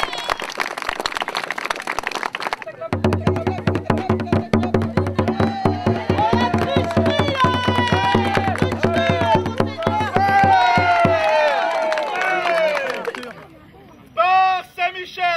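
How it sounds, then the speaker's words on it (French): A crowd at a medieval-themed knighting ceremony applauds squire Arthur with sustained clapping and cheering over a steady low drone, fading out before a brief final burst. "On l'applaudit très fort!"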